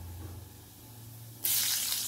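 Cumin seeds dropped into hot oil, with a sudden loud hiss and crackle bursting in near the end after a quiet stretch, close by.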